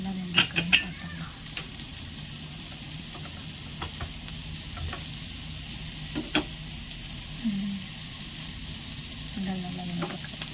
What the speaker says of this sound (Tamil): நல்லா கோல்டன் ப்ரௌன் ஆகிற வரைக்கும் வெங்காயத்தை நல்லா வதக்கணும்